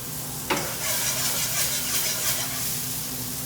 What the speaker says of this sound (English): Already I can see the mushrooms, the onions is caramelizing